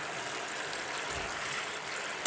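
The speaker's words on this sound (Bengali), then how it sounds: "একটু ফুটে ওঠা পর্যন্ত অপেক্ষা করব" Water seasoned with turmeric and salt boils in a cooking pot, a steady soft bubbling hiss with no voices, fairly quiet and even throughout.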